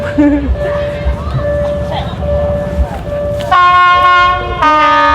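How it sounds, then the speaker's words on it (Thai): A train rumbles closer through the railway market in Nong Khai, Thailand, amid background chatter, then a loud horn blares twice near the end, sustained and harmonic. "รถไฟมาแล้ว"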